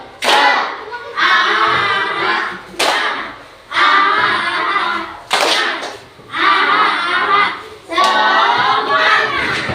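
Children chant a rhythmic 'tepuk semangat' routine in a classroom, voices in loud bursts separated by short pauses and punctuated by sharp claps.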